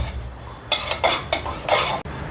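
Cumin and mustard seeds dry-roasting in a pan, heard as a few short metallic scrapes and clinks of a spoon stirring against the pan over a faint background hiss.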